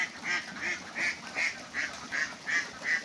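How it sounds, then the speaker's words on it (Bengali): Khaki Campbell ducks quack close by in a steady, evenly spaced run of about eight loud calls, with no voices over them. "আমার হাঁসগুলো দেখেন অরিজিনাল খাকি ক্যাম্বেল হাঁস"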